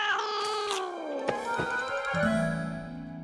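A cartoon cat lets out a long, drawn-out meow that rises into a wavering caterwaul, loud and close, with no talk over it.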